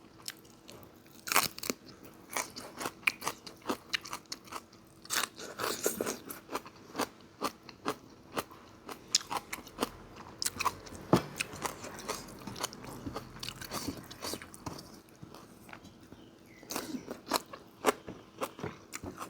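Close-up crunching and biting while eating Thai food: chicken hang le curry, boiled vegetables, mushroom tom yum and fermented-fish chili dip. Irregular bursts of chewing and crunchy bites recur throughout, with no talking.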